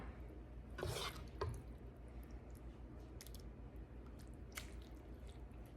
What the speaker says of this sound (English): add a small amount of the beef mixture to the bottom of your pan and just kind of spread it out